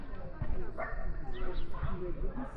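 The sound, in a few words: dogs barking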